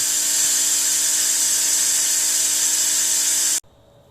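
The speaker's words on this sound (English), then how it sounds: "Using the vacuum bleeder." A vacuum bleeder draws brake fluid from the right rear brake of a BMW X5 E70, giving a steady, close, high-pitched whine that runs unbroken for about three and a half seconds, then cuts off abruptly.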